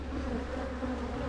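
Honey bees buzzing steadily at an opened nucleus colony hive, a dense continuous hum close by with no voices.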